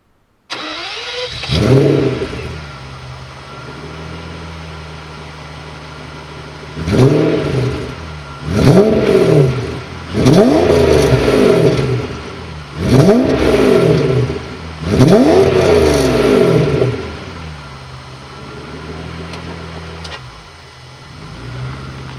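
A Mercedes 190E with a swapped-in V12 engine cranks and catches, settles into an idle, then revs hard in four strong bursts before dropping back to a steady idle.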